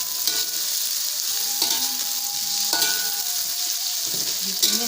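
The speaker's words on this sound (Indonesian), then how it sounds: "Ditumis sampai layu" Tauco gulai ingredients sautéing in a hot pan, a loud continuous sizzle with intermittent scrapes and clanks of a spatula stirring, close up and steady throughout, no voices.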